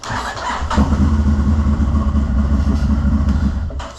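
Engine of a 2023 CFmoto CForce 1000 ATV cranking and catching, then settling into a steady, close, rumbling idle with a slightly uneven throb, loud and alone.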